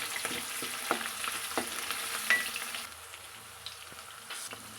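Mustard seeds, chillies and onions being stirred in a hot pan, sizzling and frying with a string of sharp spoon scrapes and knocks against the pan, then a quieter steady sizzle.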